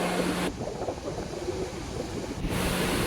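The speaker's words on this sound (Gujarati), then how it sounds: "આ છે દરિયો, ગોમતીની બાજુમાં જે દરિયો છે એ દરિયો છે." Monsoon sea waves with a strong current beside the Gomti at Dwarka roar in a loud, continuous wash mixed with gusty wind noise on the microphone.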